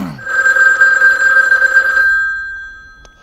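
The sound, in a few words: telephone ringing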